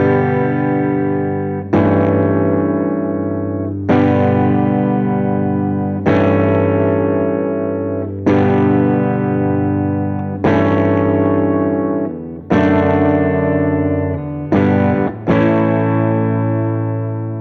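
A song's chorus rings out over a sustained G pedal, distorted guitar chords struck roughly every two seconds and left to decay, with a quick double hit near the end and no voices.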